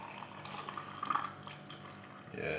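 Faint trickle of 240 ml of water being poured into a container, a soft, brief liquid splash with no talk.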